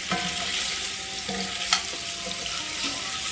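Kielbasa sausage sizzles steadily in a hot pan, browning, a dense crackling hiss with occasional pops and a faint clatter of utensils, close and continuous.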